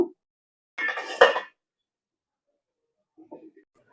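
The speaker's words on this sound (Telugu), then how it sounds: "ఇప్పుడు మూత పెట్టి మగ్గించుకుందాము" A lid clanks onto a cooking pot of simmering mutton curry, a short close metallic clatter with a faint second knock moments later in an otherwise quiet kitchen.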